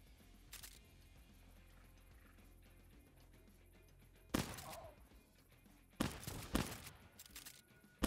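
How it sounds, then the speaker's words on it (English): Several sharp gunshots in a video game, a single crack early, then a louder shot and a tight cluster of reports near the end over a quiet background. "Shots."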